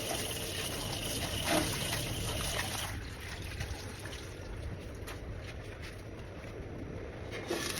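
Running water from a tap flows steadily as a cooking pot is washed before braising preserved-vegetable beef. The water is faint and continuous, with no talk.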